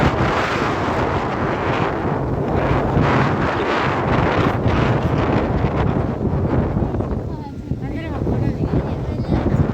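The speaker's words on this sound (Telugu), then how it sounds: "మేము వచ్చే టైంలో అక్కడ ఎంత విపరీతంగా గాలి వస్తుందంటే" Strong wind at an open hilltop temple buffets the microphone in heavy, continuous rumbling gusts that fill nearly ten seconds, with faint voices occasionally underneath.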